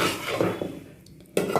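Cooked dal with coriander leaves stirred in a pot: a spoon scrapes and clinks against metal in a few uneven strokes, fairly close, with a short quiet pause before a louder scrape at the end.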